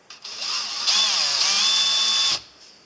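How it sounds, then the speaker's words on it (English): A power drill whines for about two seconds as it bores a small pilot hole for a curtain hook inside a camper van, the motor pitch rising and wavering under load before cutting off abruptly. "Drill a little bit of a pilot hole"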